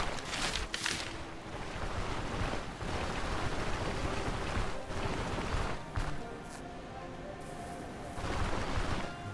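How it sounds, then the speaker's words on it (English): A character swims through water in the game Stoneshard, with steady splashing and sloshing water strokes over a windy, wave-like wash, fairly loud and continuous with no talk. "we're gonna swim across this little bit"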